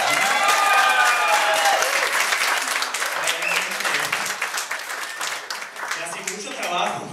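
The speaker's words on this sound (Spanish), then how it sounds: "Aplausos para Martha." Audience applause at a Spanish-language stand-up comedy show, a burst of clapping that thins out over several seconds, with a few cheers and whoops over it.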